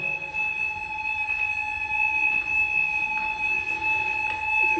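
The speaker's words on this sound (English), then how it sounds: "the alarm has been off that many times before that it could be a false alarm" A fire alarm sounds continuously in a block of flats, steady high electronic tones ringing without pause, with faint background knocks and no voices.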